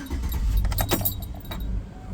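Car keys jangle close up as the regular key is tried in a vehicle's ignition, a bright metallic rattle lasting about a second over a low background hum.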